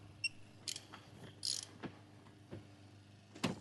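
SUZUME 3/8 drive digital torque wrench being loosened, giving a handful of faint, separate mechanical ratchet clicks and small clacks at irregular intervals over a quiet background.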